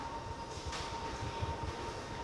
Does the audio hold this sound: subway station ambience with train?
yes